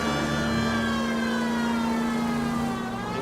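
Police sirens wail in the L.A. Noire video game, several overlapping tones sliding steadily and loudly over a low engine hum, with no talk.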